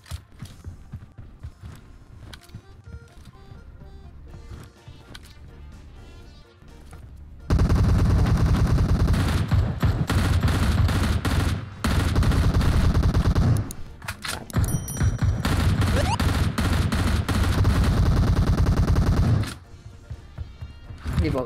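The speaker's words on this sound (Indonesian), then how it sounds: "Udah nembak barusan." Gunfire in PUBG Mobile, with dense bursts of rapid automatic shots and a quieter lead-in that turns to loud, sustained firing, then tapers off near the end.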